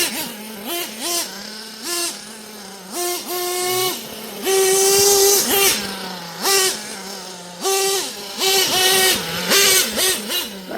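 An old nitro engine on a Hotbodies Dirt Demon RC truck, running rich, buzzes loud and close, revving up and dropping back in repeated bursts with a brief sustained wail in the middle.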